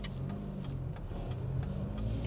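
A 32-year-old BMW E30 M3 engine pulls and revs hard in third gear from inside the car, a steady close mechanical drone with faint rhythmic ticks and no speech.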